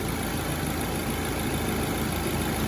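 A 2008 Mini Cooper S engine idles steadily with a low, continuous rumble and faint vibration, no other sounds over it.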